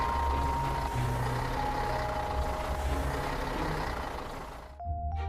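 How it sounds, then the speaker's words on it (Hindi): A truck rolls through a police checkpoint gate, its engine rumbling steadily and loud up close, with repeated reversing-style beeps, then a hiss like an air brake near the end. "इस तरह ट्रक गेट को पार करके चली गई।"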